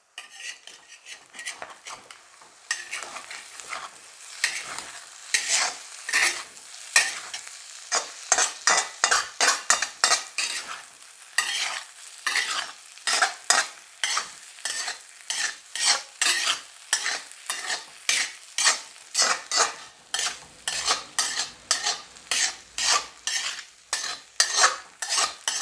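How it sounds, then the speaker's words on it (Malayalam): Fish egg fry with onions being stirred over a medium flame, with a steady run of repeated metal utensil scrapes and clinks against the pan, close and fairly loud, with a soft sizzle beneath and no talk. "ഇനി മീഡിയം ഫ്ലെയിമിൽ നമുക്ക് നല്ലോണം മിക്സ് ചെയ്ത് കൊടുക്കാം."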